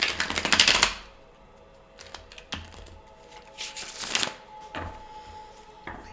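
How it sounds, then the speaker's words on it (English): Tarot cards are shuffled in crisp, close riffling bursts, loudest at the start and again midway, with softer taps and card slaps in between and no talking. "So while I shuffle, I invite you to please roll your shoulders back"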